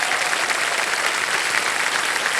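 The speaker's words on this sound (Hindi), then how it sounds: "तालियां इनके लिए बज जाएगा फिर से।" A game-show studio audience claps for a contestant, producing loud, sustained, uniform applause that fills the room without a break.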